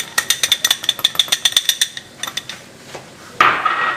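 A wire whisk clatters rapidly against a pot while all-purpose flour is stirred into a roux, giving a dense run of bright metallic ticks and scrapes that thins out, then a louder rattling burst near the end.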